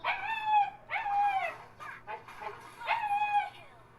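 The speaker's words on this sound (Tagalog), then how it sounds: "nag-ingay na naman yung aso" A dog lets out long, wavering howls, three drawn-out cries with short gaps between, fairly close and clear over a quiet background.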